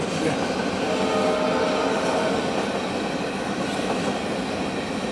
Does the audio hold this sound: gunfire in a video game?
no